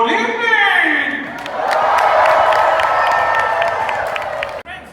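A show audience at the Tournament of Kings in Las Vegas cheers for the King of France, a loud sustained roar of crowd cheering and whooping that swells and holds, with a voice calling out at the start.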